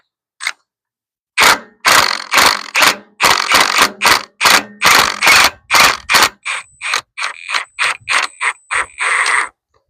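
A ratchet on a wobble socket clicks in quick repeated bursts while loosening parts on a seized Farmall H tractor, loud and close, each stroke a short rasping run of clicks with brief pauses between.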